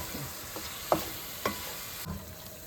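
Masala and tomatoes fry in a pan for Andhra fish pulusu, giving a soft steady sizzle with a few sharp scrapes of a spoon against the pan, no voices.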